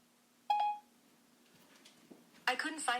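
A smartphone voice assistant sounds a single short activation chime, clear and fairly loud against a quiet background, followed by faint noises and then a synthetic voice response.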